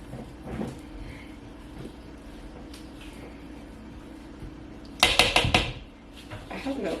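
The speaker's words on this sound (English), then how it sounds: "Stir 3 to 4 times until the flour has moistened" A spoon stirs flour into an infused garlic mixture in a bowl for rosemary garlic focaccia, with faint scrapes and taps, then a short loud clatter of utensil against dish.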